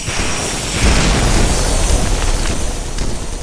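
A loud, rumbling airstrike explosion booms in the military shooter game Red Crucible Firestorm, a dense sustained roar that swells after the first second and then slowly rolls on, with no voices.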